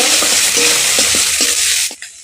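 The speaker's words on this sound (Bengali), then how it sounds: "আর দিয়ে দেবো একটা সিদ্ধ করে রাখা আলু। একটু নেড়ে চেড়ে নেব" Boiled potato is stirred in a hot oiled pan for a raw banana kofta dish, loud close sizzling with repeated scraping knocks of a spatula, cutting off abruptly near the end.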